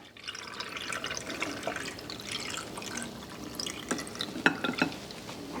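Pickling brine is poured over quail eggs in a jar, giving a quiet trickle with scattered small drips and splashes near the end.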